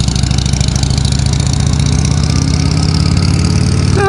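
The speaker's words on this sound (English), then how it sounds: "Engine braking is still compliant." A 2016 Harley-Davidson Street 750 motorcycle engine braking, giving a steady, loud, close droning hum with no throttle blips and no talk.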